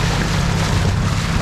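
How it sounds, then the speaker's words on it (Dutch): Waves and rushing water noise aboard a boat in a sailing race, a loud, steady broadband wash with strong low rumble, close and uninterrupted, with no talking. "Dit is de golven."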